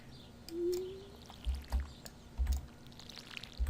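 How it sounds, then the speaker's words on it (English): A watering can pours water in the farming video game Stardew Valley: a short, smooth splash sound over quiet game ambience, followed by a few soft low thumps. "gotta get the hang of this new watering can, I guess"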